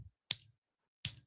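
Two crisp finger snaps close to the microphone, roughly three-quarters of a second apart, each a sharp crack with a short tail and silence in between.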